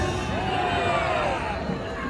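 A large rally crowd shouts and cheers at Gwanghwamun Square during a Liberation Day national gathering, a dense, continuous roar of many voices at a distance for about two seconds.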